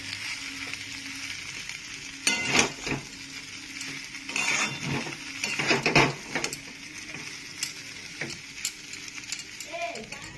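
Egg Maggi noodles are stirred and fried in a pan, with scraping and clinking of a utensil against metal and a soft sizzle underneath, coming in irregular bursts while a person talks.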